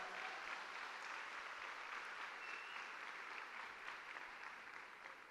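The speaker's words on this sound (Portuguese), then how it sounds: "Bate palmas aí a Jesus." A church congregation clapping in praise, a steady, continuous wash of applause from many hands that holds at an even level throughout and eases slightly at the end, fairly faint overall.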